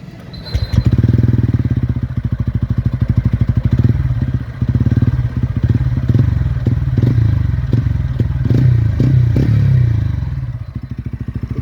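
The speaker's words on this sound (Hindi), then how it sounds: "कंपनी ने अब खुद ही अपना जो स्टॉक एग्जॉस्ट है वो काफ़ी धीरे कर दिया उसकी आवाज़" A TVS Ronin motorcycle on its stock exhaust thumps close by in a rapid, even beat, revved up and held before settling back toward idle, loud and clear with no talk.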